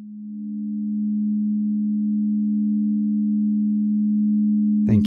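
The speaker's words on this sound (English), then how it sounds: "The rest of this sound bath is for you to explore on your own." Sound bath tone during a guided meditation, a single pure low hum that swells in gently and holds steady and loud for several seconds before a brief clatter at the very end.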